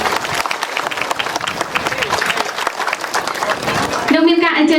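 An audience applauds at a road inauguration ceremony, dense clapping rising and falling steadily, with a brief amplified voice and whistle-like tone near the end.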